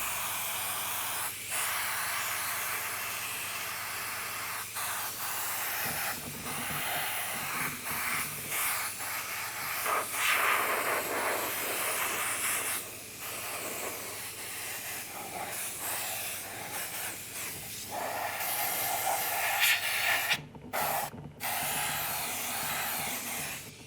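Paint spray gun held well back from the piece lays down a soft coat, giving a steady broadband hiss that runs without break for the whole stretch, with small swells and a few brief dips near the end.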